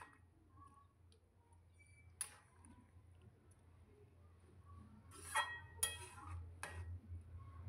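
Dal being stirred with hot water in a pot, heard as faint scattered scrapes and clinks of a utensil against the pot, a few sharper knocks near the end over a low steady hum.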